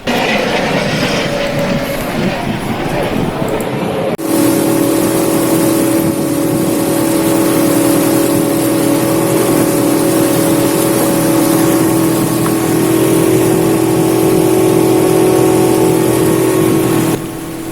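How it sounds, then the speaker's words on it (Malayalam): A canal tour boat in the Netherlands runs its engine, a steady, loud droning hum that starts abruptly a few seconds in and holds evenly throughout. "അപ്പം നമ്മുടെ ബോട്ട് എത്തിയിട്ടുണ്ട്."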